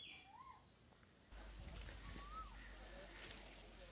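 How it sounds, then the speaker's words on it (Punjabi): An Asian koel calls on a jamun fruit farm, giving a few rising, slurred whistles at mid distance, with a low rumble and someone talking partway through. "ਜਿੱਦਾਂ ਵਿੱਚ ਕੋਇਲ ਦੀ ਆਵਾਜ਼ ਆ ਰਹੀ ਨਾ"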